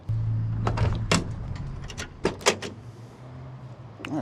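Door of a 1965 Plymouth Fury with a 383 V8 being opened and closed, giving several close metallic clunks and latch clicks with a low steady hum underneath.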